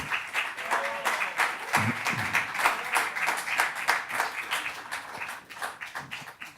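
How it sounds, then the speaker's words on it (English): A small audience claps for a student performer at a music institute presentation, with dense, steady clapping throughout and some faint talk mixed in. "a big clap for Mao Sone, please"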